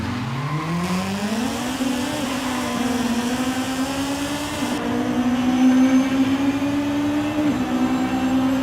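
An Acura Integra Type R in a racing video game launches at 2K rpm, the engine note climbing steadily through the revs with a gear change partway, loud and continuous with faint tire noise underneath and no talk.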